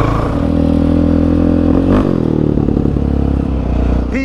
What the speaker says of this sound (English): your quad is loud